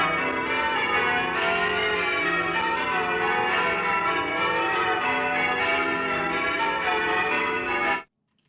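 A dense, sustained wash of church bell chimes from a Mellotron tape sample rings continuously with layered overlapping tones, no speech, holding level until an abrupt stop near the end.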